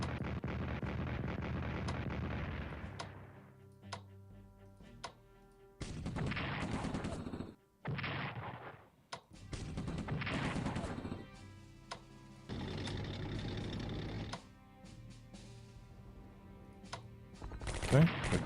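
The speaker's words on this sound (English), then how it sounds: "let's bombard the troops at Port Said" Artillery bombards troops at Port Said in the WWII strategy game Strategic Command, as a series of loud blasts and crackling gunfire-like bursts separated by short gaps, with a final sharp burst at the end.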